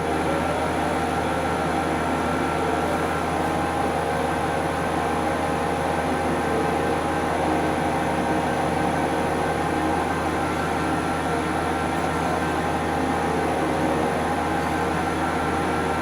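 A metal lathe runs with a steady, continuous mechanical hum and broadband whir, unchanging in level throughout, with no voices over it.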